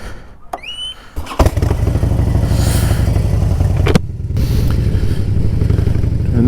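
A Harley-Davidson motorcycle starts up and settles into a loud, steady idle with a throaty, pulsing rumble, one brief clunk partway through, heard close with no talking.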